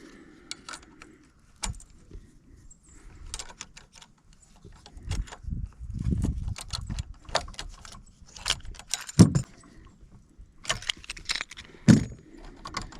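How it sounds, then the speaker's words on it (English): Wrench and Allen key tightening a lock nut over a washer while installing a bow-mount steering pole on a Sea Eagle FishSkiff 16 boat, heard as close, irregular metallic clinks, ratcheting ticks and rattles with quiet gaps. "between my wrench and my Allen key, I'm going to tighten this down"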